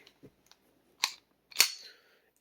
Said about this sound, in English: Go ahead and take it out. Drop the mag.